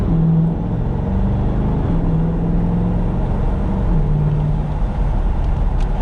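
A 2020 C8 Corvette with the 5VM carbon fiber package downshifts while driving, a loud, steady engine drone heard from inside the cabin, with pitch steps as the gears change.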